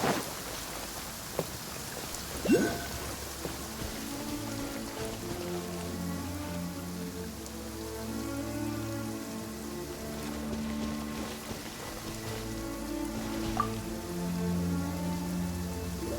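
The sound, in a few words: rain falling in the video game Genshin Impact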